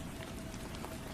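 Steady rain falls in an even, continuous hiss of drops on a surface, unchanging and fairly soft throughout, with no voices.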